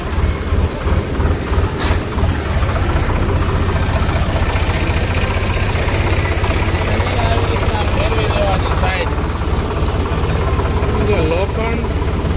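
A tractor engine runs at a steady idle, its low, even throb chugging close by the whole time while a person talks over it and a few faint clanks break through.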